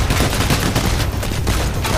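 Rapid, dense gunfire in the Payday The Heist Green Bridge heist, a close, loud fusillade of overlapping shots running without a break. No talk is heard.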